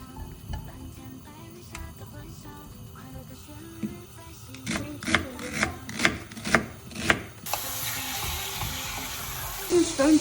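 Olive oil heating in a pan, with a series of sharp clicks, scrapes and knocks, then a bright steady sizzle rising near the end as ingredients hit the hot oil.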